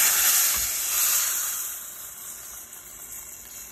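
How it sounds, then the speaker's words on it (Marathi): Hot tempering of golden garlic, salt and chilli in oil is poured over Marathwada-style spinach curry, and it bursts into a loud, close sizzle that gradually settles into a fading hiss. "आणि ही फोडणी आता आपण भाजीवर ओतणार आहोत."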